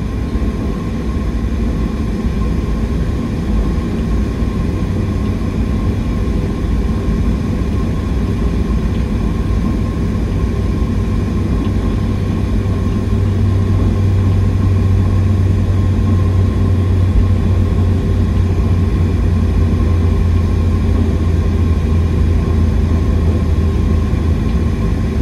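Steady, loud roar of cabin noise aboard a Southwest Airlines Boeing 737-700 cruising between Kansas City and New Orleans, a continuous low engine drone with broadband air rush that swells slightly partway through, no voices.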